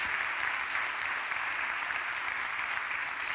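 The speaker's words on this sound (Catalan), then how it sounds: "m'agradaria demanar un fort aplaudiment per totes les persones que m'heu ajudat avui" A crowd at a TEDx talk with a magic show claps steadily and densely throughout, a continuous wash of applause with no break or speech.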